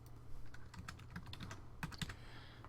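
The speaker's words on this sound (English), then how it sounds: "in here I am going to be typing in the data" Data being typed into a table on a computer keyboard, a steady run of light key clicks with a few sharper strikes near the end, heard close up with no talking.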